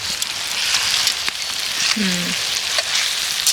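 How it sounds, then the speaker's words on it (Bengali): Ginger-garlic paste sizzles steadily in hot oil while frying for chicken kosha, a dense crackling hiss with a brief scrape of stirring in the pan. "এই তো আমাদের আদা রসুনের পেস্ট দিলাম। অনিশাকে একটু ভালো করে নাড়ো।"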